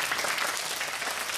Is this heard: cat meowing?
no